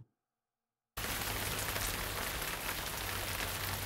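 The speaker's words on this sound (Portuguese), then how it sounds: "Ixi, começou a chover!" Steady rain starts abruptly after a second of near silence, a dense, even hiss of drops pattering on a surface that carries on loud and unbroken to the end, with no voices.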